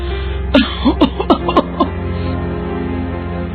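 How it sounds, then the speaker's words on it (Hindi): An elderly mother with a persistent, lingering cough that has brought up blood coughs close by in a rapid cluster of four or five harsh, rasping bursts, followed by a fading quieter stretch. "ये खांसी तो जा ही नहीं रही है"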